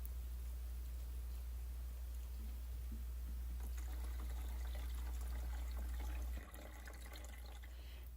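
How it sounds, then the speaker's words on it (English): Water pouring steadily into indoor hydroponic lettuce growing trays, a faint continuous splashing and trickling over a low hum, shifting in tone partway through before easing slightly near the end. "So let's fill up the water for these 3 trays of lettuce"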